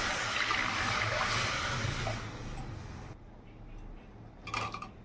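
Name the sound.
pouring water into mashed boiled lentils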